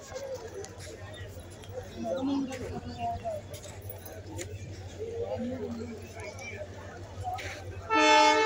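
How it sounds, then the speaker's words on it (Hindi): Jodhpur–Bangalore Express pulling into a station platform, a low rumble of the train under busy crowd chatter, with a sharp horn blast bursting out loudly in the final second. "आ गई जोधपुर बंगलौर एक्सप्रेस।"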